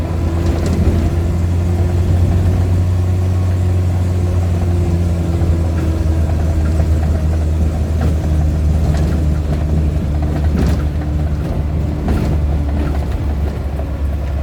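An empty Suzuki Carry pickup drives along with a loud, noisy engine, a steady close drone with low rumbling and faint rattles running throughout, with no talking.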